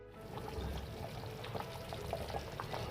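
Tomato juice and meat stock pour into a pot of Iraqi okra stew in a steady, soft liquid stream with faint splashing. The pour runs continuously and nobody talks.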